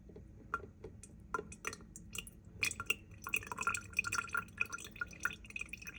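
Kefir drips through a strainer into a container, soft irregular plinks and small splashes, close and quiet, growing more frequent toward the end.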